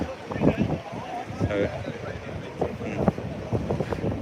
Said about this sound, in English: Oh, it's windy. It really is windy.